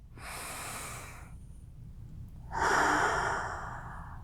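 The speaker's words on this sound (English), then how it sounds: "Take a deep breath." A deep breath taken slowly and close by, a long airy inhale followed after a short pause by a fuller, louder exhale, with no talk over it.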